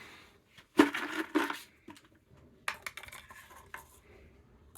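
Backyard gravel scooped and poured by hand, giving a few sharp clattering bursts of small stones rattling against each other and a container, with quieter scattered ticks and crunches between them.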